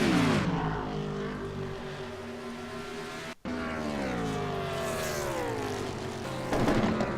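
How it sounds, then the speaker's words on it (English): Race car at Pocono Raceway in an NLRS race, engine note dropping and rising as it downshifts through turn 1, a loud steady droning roar with a brief cut and shifting pitch. "you can hear the 28 car downshift as he goes through turn 1"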